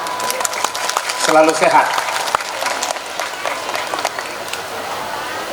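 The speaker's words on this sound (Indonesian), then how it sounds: "Tepuk tangan" Audience applause at an Islamic religious gathering (pengajian), a burst of clapping rising and fading over a few seconds while a speaker keeps talking over it.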